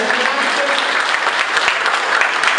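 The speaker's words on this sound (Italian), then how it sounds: "facciamo un applauso a tutti" A crowd at a pilgrimage gathering to San Gabriele applauds everyone together, a brief, continuous burst of dense clapping at steady loudness.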